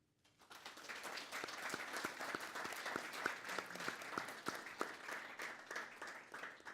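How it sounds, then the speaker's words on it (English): Audience at an academic event clapping for a panel, starting abruptly and holding steady with distinct individual claps standing out in a smaller room. "give a warm round of applause for our third panel"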